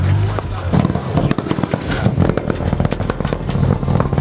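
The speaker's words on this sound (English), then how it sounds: "the Evo is doing two-step anti-like pops and bangs" Rapid, loud anti-lag popping and banging crackles from a Mitsubishi Evo's exhaust at a car meet in Ireland, rattling off in irregular bursts close by, with voices talking underneath.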